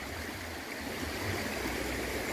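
A river stream flows steadily at Bukit Donorojo, a continuous close rushing and hissing of running water with no voices.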